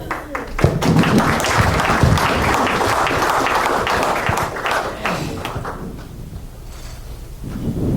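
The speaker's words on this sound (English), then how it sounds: "Nice round of applause for Dan Telep." A lecture audience claps for a guest speaker about to present on local postal history, a dense wash of clapping lasting several seconds and thinning toward the end.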